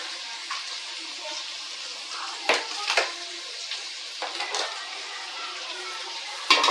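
Onions sautéing in a pan until golden for chicken leg biryani give a steady soft sizzle, with a few light stirring scrapes and clinks over it.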